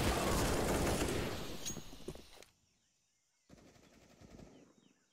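A dense burst of automatic gunfire in a Counter-Strike: Global Offensive professional match fills the first half loudly, then cuts out, and quieter game sounds follow.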